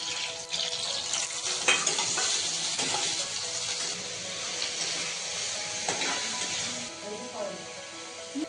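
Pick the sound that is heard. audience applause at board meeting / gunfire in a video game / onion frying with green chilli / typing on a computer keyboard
onion frying with green chilli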